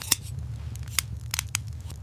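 Scissors snip five times in close, crisp, uneven cuts over a low background hum, with no one speaking.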